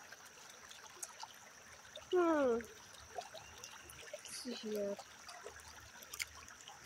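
Outdoor stream water trickles softly and steadily in the background while a person talks briefly nearby.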